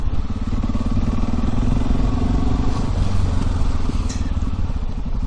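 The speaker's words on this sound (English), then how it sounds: "And then I will start the bike, check the dashboard as usual, and ride it in the normal roundabouts" A motorcycle ridden through ordinary roads and roundabouts, its steady engine drone loud and close throughout, with rumbling wind and road noise and a brief clatter near the end, recorded from a helmet-mounted camera.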